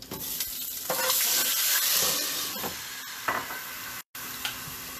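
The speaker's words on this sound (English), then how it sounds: "Just letting steam out now." Steam escapes with a loud hiss while food cooks, sizzling and bubbling in bursts over a few seconds, with brief clinks and a short silent gap near the end.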